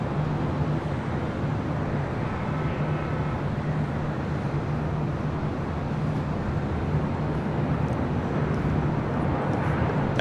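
An airliner approaches for landing on runway 24 left at LAX, heard as a steady, broad jet roar with a low engine hum holding at a constant level throughout.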